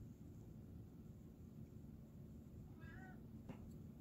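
An old, small pet cat gives a short, faint meow late in the clip, heard over a steady low indoor hum with no one speaking.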